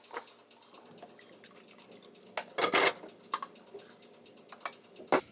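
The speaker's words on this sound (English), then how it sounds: "I'm just gonna use the fork to also mix it together with the milk" Fork clinking against a container while mixing mashed banana with milk, light scattered taps and scrapes close up, one louder clatter midway, no voices.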